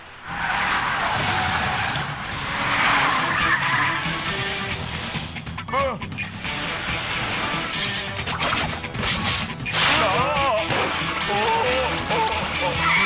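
Cartoon car skidding and braking hard, loud sustained tire screeches and rumbling engine noise with rising squeals and crash-like impacts over several seconds, busy and close, with no voices.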